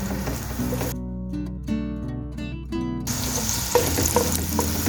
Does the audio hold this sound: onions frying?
yes